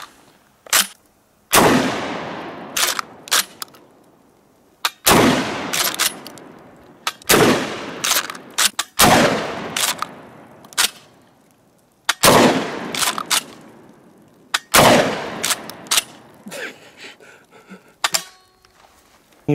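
Kel-Tec KSG 12 gauge shotgun firing outdoors, about seven loud sharp blasts spaced a couple of seconds apart, each with a booming decay and clacking pump-action racking between shots.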